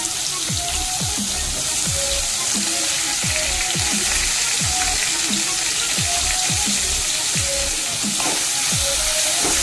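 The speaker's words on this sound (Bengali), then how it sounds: "লবণ হলুদ মাখিয়ে রাখা আলুটা এখানে দিয়ে একটু ভেজে নিচ্ছি।" Potatoes coated in salt and turmeric fry in hot oil with a constant close sizzle, broken by repeated scraping knocks as they are stirred in the pan.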